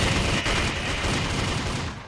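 Rapid gunfire from a Python gun in a modded Minecraft game as zombies attack, a dense, continuous burst of overlapping shots that stays loud for about two seconds and then tapers slightly.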